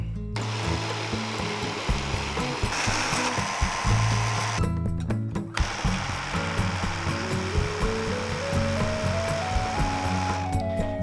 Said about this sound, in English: get your hand blender and just blend it until it's completely smooth